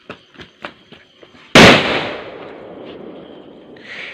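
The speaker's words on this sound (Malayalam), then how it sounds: "രണ്ടാമത് വീണ്ടും ഗുണ്ട് പൊട്ടിക്കാൻ പോവാണ്" A large gundu firecracker bursts at a Vishu celebration: one loud, close, sharp blast whose rumble and crackle trail off over a few seconds, preceded by some softer knocks and thumps.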